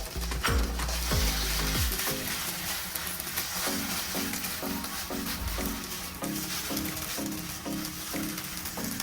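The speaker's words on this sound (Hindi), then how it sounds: "पिज़्ज़ा सॉस को हमने इसके अंदर अच्छे तरीके से मिक्स कर देना है।" Pizza sauce stirred into a filling frying in a pan for pizza cutlets, a steady loud sizzle with repeated spoon scrapes against the metal in a regular rhythm, close up and without voices.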